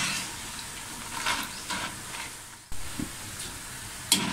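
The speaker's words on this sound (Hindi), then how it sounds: "हमने इसे दरमियानी आंच पे फ्राई करना, तेज़ आंच पे फ्राई नहीं करना" Boondi, drops of gram flour batter, frying in oil over medium heat with a steady, even sizzle and hiss, broken by a few soft stirring clicks.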